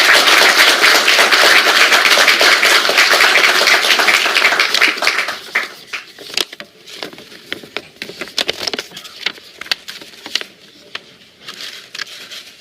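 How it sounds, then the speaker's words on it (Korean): Lawmakers at a party caucus meeting applaud loudly to welcome a presidential candidate, a dense burst of clapping that holds for about five seconds, then thins into scattered claps over room noise. "의원님들께서는 큰 박수로 환영해 주십니다."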